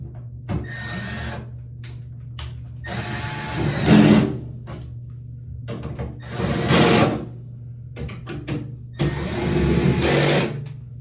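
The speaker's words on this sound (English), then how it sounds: "We go ahead and tighten these screws down." Screws being driven into a 1970s Broan NuTone bathroom vent fan housing with a powered driver, three separate whirring bursts of about a second each, close and moderately loud over a steady low hum.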